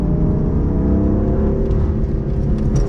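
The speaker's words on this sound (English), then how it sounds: "Lovely sounding engine." A track-day-spec BMW F82 M4's 3-litre S55 twin-turbo inline-6 revs hard and steadily, a loud, continuous engine drone heard from the car's interior with no talk.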